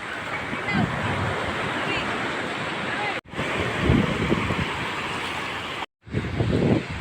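Ocean surf rolls steadily onto a summer beach, a dense wash of breaking waves with wind buffeting the microphone, interrupted by two brief dropouts.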